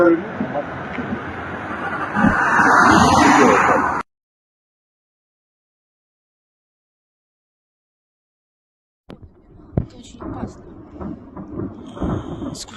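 Large explosion at a military site in Toropets, a loud booming roar with rumbling that fills the first four seconds, then silence, followed by softer irregular thuds and noise.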